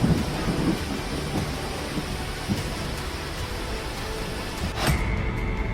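Heavy monsoon rain pours down in India with rolling thunder, a dense, loud roar of rain throughout and a sharper crack of thunder near the end.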